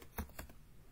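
A few quick keystrokes on a computer keyboard while entering a command in a Windows terminal, two or three close, clear taps in a quiet room.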